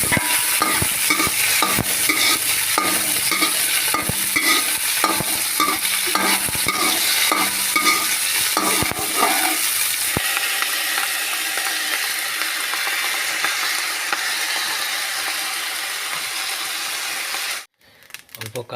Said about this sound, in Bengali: এবার অল্প ভেজে নিব ভালো করে।